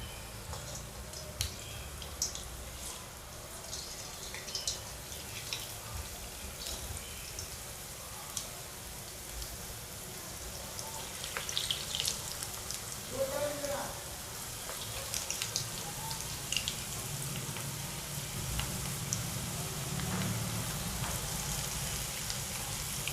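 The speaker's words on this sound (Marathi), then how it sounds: "तेल तापलं तसं आता आपण हे यामध्ये मोदक सोडून घेऊया" Wheat flour modak frying in hot oil, a dense continuous bubbling hiss with small crackles, fairly steady and close throughout, slightly louder toward the middle.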